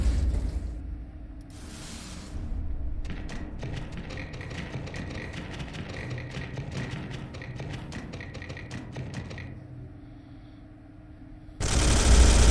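Rapid bolter gunfire in the Space Hulk video game crackles in a dense, steady burst for several seconds, then stops abruptly, followed by a sharp loud burst near the end.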